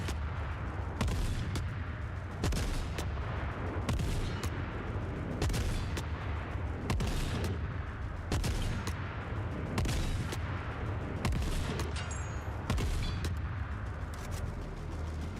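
Rapid bursts of gunfire fire at a bag in the Forever Winter video game, loud repeated volleys with short gaps, booming and close throughout without talk.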